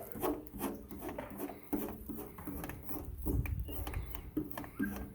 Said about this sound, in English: Once it's wet, get your scraper, pressure in the center.